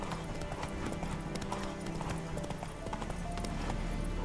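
Hooves of the horse Roach clip-clop in a fast galloping rhythm across ground in The Witcher III, steady and close, with faint ambient game sounds beneath.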